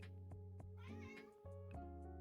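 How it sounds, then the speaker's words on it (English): A pet cat named Mabel meows several times, close and clear, with drawn-out harmonic calls, set against a steady low hum in a quiet room. "My cat says hello"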